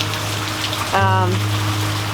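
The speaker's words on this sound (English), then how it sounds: "So you can probably hear it is raining" Steady rain falls outdoors during an all-day storm, a continuous broadband hiss of drops on surfaces, with a short tonal voice-like sound briefly rising over it partway through.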